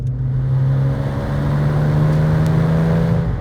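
Engine of a 2003 Porsche 911 GT2 accelerating, a steady, loud droning growl heard from inside the car, rising slightly in pitch over a few seconds with no voices.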